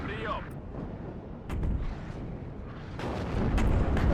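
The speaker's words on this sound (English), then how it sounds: "Artillery is brutal." Artillery fire in WARNO, a continuous rumble of distant booms and crashes with sharp impacts at intervals, growing louder toward the end.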